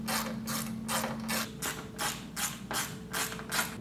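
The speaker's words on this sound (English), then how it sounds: "the first thing we're going to do is remove these two inner T30 Torx screws" A ratchet clicks in steady repeated bursts as it backs out T30 Torx screws on an Ineos Grenadier during a light bar install, about eight close, even ratcheting strokes with no talking.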